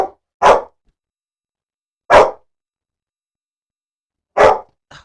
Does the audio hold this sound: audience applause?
no